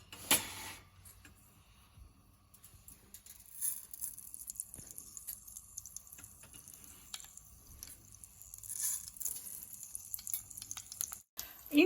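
Mustard seeds sizzling and popping in one to two teaspoons of hot oil for a tomato chutney, a faint continuous hiss with scattered soft crackles, fairly quiet and alone.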